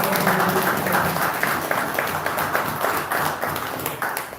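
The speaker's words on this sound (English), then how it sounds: "let us hear a round of applause for" An audience at a live event gives a round of applause, a continuous, even patter of many hands clapping fairly close and alone.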